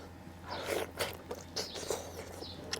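Teeth bite into a cooked frog with hard bones, giving a series of close, crisp crunches and scraping chews at an irregular rhythm, fairly faint overall.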